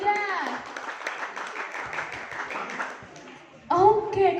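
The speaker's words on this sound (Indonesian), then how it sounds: "Boleh tepuk tangan nih teman-teman buat Kak Yuda." Audience applause for a speaker at an inspirational talk event in Bumiaji, Batu, a moderate clapping crowd heard under and between a presenter's talk, with a louder voice cutting in near the end.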